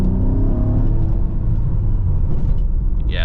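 A V6 engine in a 2014 Honda Accord coupe fitted with a short ram intake hums and rumbles loud and close, with a steady throaty drone and a brief rise toward the end.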